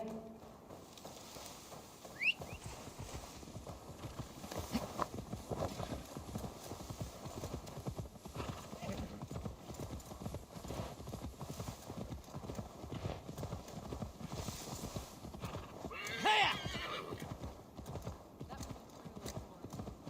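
Steady rhythmic hoofbeats of a galloping horse in a video game, Assassin's Creed Valhalla, continue throughout, with a brief whinny near the end over a faint background hum.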